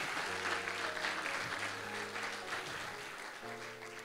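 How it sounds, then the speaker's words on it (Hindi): Congregation applause at a Hindi-language church service, steady dense clapping over about four seconds with sustained musical tones, likely keyboard chords, running underneath. "बोले जोरदार तालियां खुदावंद यीशु मसीह के लिए।"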